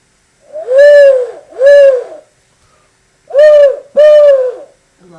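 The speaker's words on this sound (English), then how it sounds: "It's like I think it's like a mourning dove." Mourning dove call played on a handheld bird-call instrument, four loud, close, breathy hoots in two pairs separated by a short pause.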